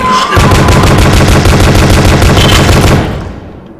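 Rapid automatic gunfire in the horror game Dread X Collection, a loud, close, evenly pulsing stream of shots lasting about three seconds before cutting off and fading.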